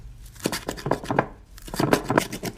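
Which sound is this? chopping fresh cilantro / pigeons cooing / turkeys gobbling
chopping fresh cilantro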